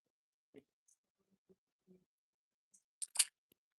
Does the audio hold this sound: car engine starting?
no